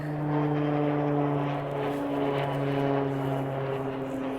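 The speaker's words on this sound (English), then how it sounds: "There's an airplane. Woo! Right above us." A propeller airplane flies overhead above a sunny garden, a moderately distant droning engine hum with steady low tones that swells and slowly fades, heard alone without talk.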